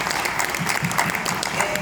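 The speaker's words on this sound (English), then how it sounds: "I think that deserves a round of applause." Conference audience at a business summit claps steadily in a hall, a dense, even wash of many hands for a couple of seconds.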